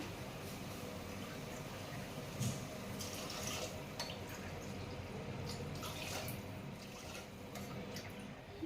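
Water pours and splashes steadily into a pot, a continuous close trickle with faint clinks, no talking.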